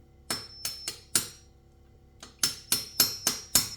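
Sharp metallic hammer strikes ring out in two bursts, four quick blows, a pause, then five more, each with a bright clanging ring, as a 12-point socket is hammered onto a car wheel lock.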